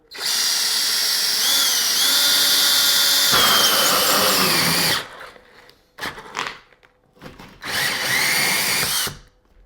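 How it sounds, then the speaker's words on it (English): A power drill whines loudly and steadily as it bores into a wall, then stops and restarts in short bursts before a final sustained run. "So we've got it attached to our drill."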